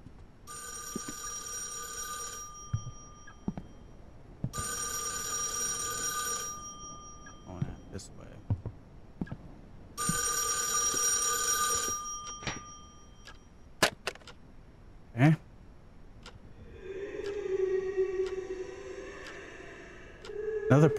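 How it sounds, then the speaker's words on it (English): An old telephone bell rings in bursts inside the horror game [REC] Paroxysm, three long rings separated by pauses, with scattered clicks and thumps and a muffled voice talking nearby. "The phone again."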